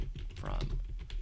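Rapid, close keystrokes on a computer keyboard as Python code is typed, forming a dense, continuous clatter over about a second.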